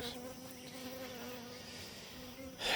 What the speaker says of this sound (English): There's still a lot of bees in it